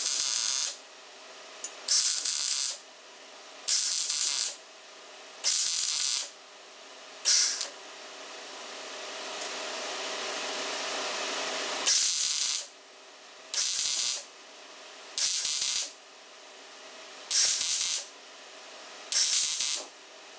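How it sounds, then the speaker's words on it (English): A steel oil filter bracket is welded in a series of short hissing, crackling bursts, about a dozen spaced passes with one longer steady run in the middle, close and fairly loud with no talking. "So I'm going to go ahead and weld these up."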